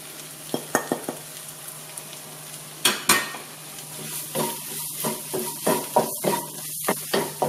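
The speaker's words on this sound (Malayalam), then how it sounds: "നന്നായിട്ടൊന്ന് ഇളക്കി കൊടുക്കാം." Onions frying with turmeric powder for a Thalassery-style chicken biryani are stirred in a pan. A soft sizzle runs throughout, broken by sharp clinks and scrapes of the spoon, which grow into a busy rhythmic stirring in the second half.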